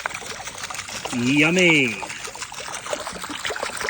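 Rusty, goopy water draining out of a part from a 1995 ZX7 motorcycle, a steady close trickle with a voice speaking briefly over it.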